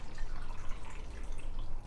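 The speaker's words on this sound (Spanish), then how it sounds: "Voy a agregar un poco de agua" Water is poured into a small blender jar while fruit water is being made, giving a steady, soft splashing and trickling that lasts the whole short stretch, fairly quiet and without talk.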